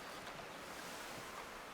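Continuous rushing of ocean waves and surf with wind buffeting the microphone, a steady wash of water noise with no voices, from the video game Don't Starve Shipwrecked while sailing a boat.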